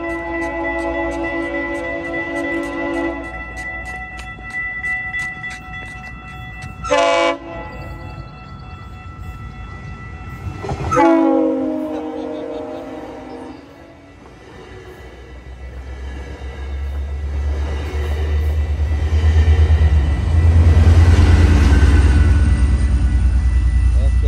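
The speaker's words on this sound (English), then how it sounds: "I think the train came from here." A train horn sounds in long tonal blasts at a railroad crossing on Progress Ave, then a low rumbling roar builds and grows loud as the train rolls past nearby.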